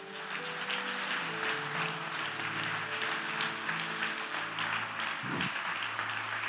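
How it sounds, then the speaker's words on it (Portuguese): A congregation at a Baptist church service in Itaúna applauds together, a steady, even roar of clapping heard from within the room, with a faint voice briefly audible underneath. "aplauda o Senhor nessa hora."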